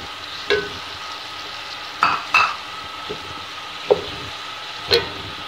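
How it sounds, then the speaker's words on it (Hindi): Green peas with capsicum fry in a pan under a low, steady sizzle, while a utensil scrapes and clinks against the pan every second or so, close and unaccompanied by talk. "ये देखिए ये हमारे मटर जो है फ्राई हो गए हैं।"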